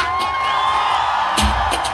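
Festival crowd at a country music event in Juiz de Fora shouting and cheering, a steady wash of voices with brief louder whoops and yells rising over it.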